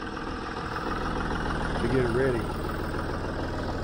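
A John Deere 5055 tractor engine idles steadily, a low continuous rumble with a brief rise in pitch midway, while someone talks over it.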